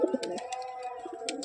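A male Giribaz pigeon coos close by inside a loft. It gives a short series of soft, throaty warbling coos in quick succession, with faint clicks and rustling around it.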